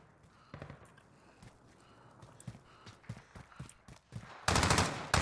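Loud gunfire in Call of Duty Warzone, scattered sharp shots, then a dense, very loud burst near the end.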